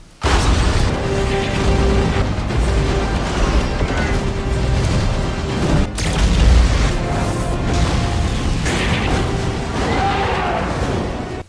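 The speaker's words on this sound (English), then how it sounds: "just a shit ton more explosions" Loud, continuous cinematic rumbling with booms and crashes from the film Man of Steel, one sharp blast standing out midway through a dense action soundtrack.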